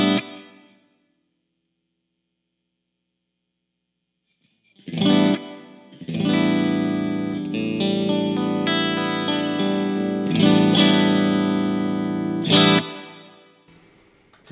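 Electric guitar played through a Mesa Dual Rectifier amp with reverb in the effects loop: a distorted chord rings out and fades, silence follows, then a struck chord and long, sustained, reverberant distorted chords.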